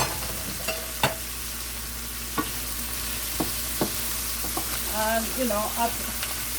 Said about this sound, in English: Cut very thin, and also some carrots, and I let those saute.